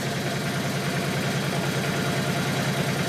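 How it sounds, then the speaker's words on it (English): A 1983 Yamaha Virago XV500 motorcycle engine runs steadily under light throttle during carburetor sync tuning, a continuous loud low rumble with even pulsing and no voices. "So give it a little gas."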